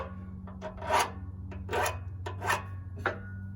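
A metal file rasps burrs off the key of a Little Wonder 13HP high-output blower impeller, in about six short, distinct scraping strokes over a steady low machine hum.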